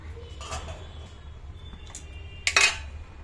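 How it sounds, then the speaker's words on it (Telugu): A lid is set on a cooking pan of tomato capsicum curry, producing one sharp metallic clink near the end after a few softer taps over a low steady hum. "దీని మీద క్యాప్ వేసేస్తున్నాను ఆల్రెడీ. క్యాప్ వేసాను."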